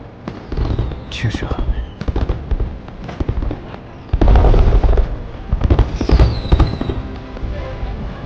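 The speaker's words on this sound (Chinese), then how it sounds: "雪月城每年也能看到烟花，可远不如天启城今夜所看见的。" Fireworks bursting over an ancient walled city at night during a festive evening, a dense run of booming bursts and crackles with rising whistles, loud and near, while people talk quietly over them.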